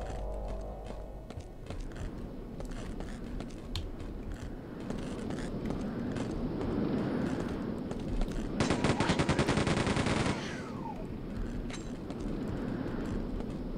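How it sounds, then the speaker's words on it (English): Minigun in Quake II rips out a loud, rapid sustained burst lasting about two seconds, set amid ongoing game noise and scattered gunfire. "We can use this minigun, right?"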